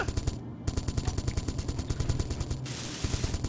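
Rapid automatic gunfire in the space game Space Engineers, a steady fast stream of sharp shots at close range continuing throughout with no break.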